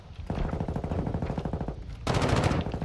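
In Modern Warfare 2, a decoy grenade mimics gunfire with a rapid burst of close, loud automatic shots, followed by a second harsher, noisier burst.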